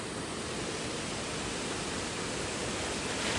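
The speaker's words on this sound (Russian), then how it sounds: "Еще один водопадик." A small waterfall in the Ordesa valley of the Pyrenees gives a steady, even rush of falling water that stays unbroken and fairly loud throughout, with no voices.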